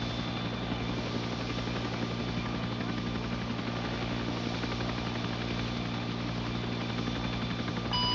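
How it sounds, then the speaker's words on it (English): A helicopter in a Vietnam War video game drones steadily throughout, a loud, even engine and rotor hum with no talk over it. "I guess Hobo's gonna ride the other helicopter."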